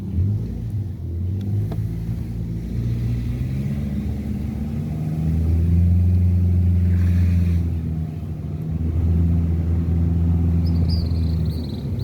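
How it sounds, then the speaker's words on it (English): A car driving downhill on a sunny road in Jamaica, a steady low engine rumble and road noise heard from inside the vehicle, with slight shifts in engine pitch and no talking. "Now we drive down after a hill."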